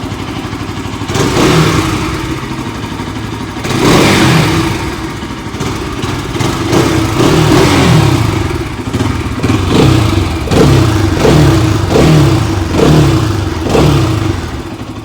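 A Bajaj Pulsar motorcycle engine, loud and close, revs repeatedly toward 3000 rpm in a steady series of rising blips over a continuous rumbling idle, with no talking.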